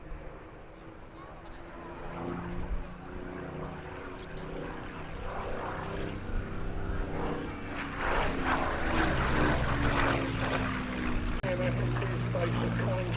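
Spitfire aircraft with a Merlin engine flying at an airshow, a steady propeller drone that swells louder over the span as it passes, with people talking over it throughout.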